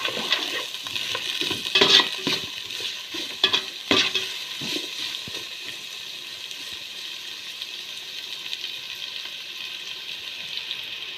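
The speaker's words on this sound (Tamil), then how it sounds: "இப்போ வந்து வெங்காயம் நல்லா வதங்கட்டும்" Onions frying in a pan for chicken dum biryani, a steady sizzle with scraping stirring strokes clustered in the first four seconds, then an even frying hiss continuing alone.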